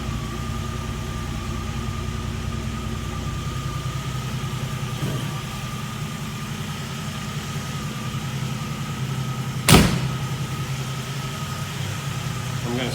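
A Jeep CJ-7 engine with a stainless exhaust and black tip idles in a steady, even low rumble that holds throughout, with one sharp click or knock near the end.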